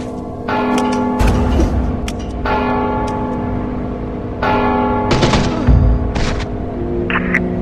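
A bell in the stealth video game Mark of the Ninja rings out in several loud, resonant strikes, each leaving a long ringing tail as the next one lands, with no talk over it.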